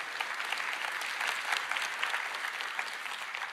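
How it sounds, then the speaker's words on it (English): A crowd claps steadily, a dense wash of applause at even loudness throughout, with no speech standing out. "A round of applause to our creator team for building this amazing product."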